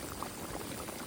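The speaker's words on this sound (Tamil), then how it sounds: "வாய் வழியாக ஆடு கொப்பளிக்குதுப்பா." Spicy village-style goat head gravy bubbles in a pot, a dense, steady boiling burble with small pops, close and even, with no voices.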